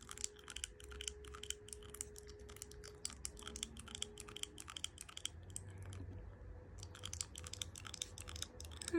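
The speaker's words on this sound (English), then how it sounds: "Let's type in Charmaine" Fingers type on a computer keyboard, quick close clicks in bursts with a brief pause partway through, faint and alone over low room hum.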